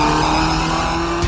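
The 1984 Ford Supervan 2 accelerates hard in a brief, loud, close engine roar with steady rising tones and a sharp burst near the end.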